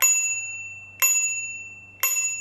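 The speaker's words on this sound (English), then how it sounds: "Here's a little dingy bell on the right side." Small ding-style bell on the handlebar of a Velowave Breeze T e-bike struck three times at even one-second intervals, each bright close ring decaying quickly, with a low hum underneath.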